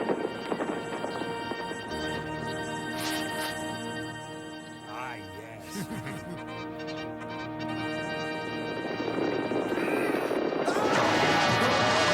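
Horses gallop away in a cartoon adventure, their hoofbeats racing under a loud orchestral score while a voice shouts over them.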